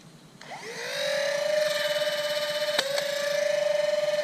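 Out of Darts brushless motors in a Nerf blaster spin up to a steady, high-pitched whine, with two sharp dart shots cracking out in quick succession near the end.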